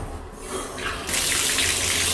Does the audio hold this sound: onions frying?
no